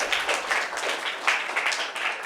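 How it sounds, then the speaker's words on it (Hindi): Applause from an audience at a gathering in a Buddhist vihara in Rajnandgaon, a steady broadband clapping that swells and dips for a couple of seconds with no one speaking. "तो इन सभी के लिए एक बार जोरदार तालियां तो बजानी ही चाहिए"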